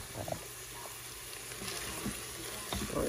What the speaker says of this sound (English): So I'm sauteing onions.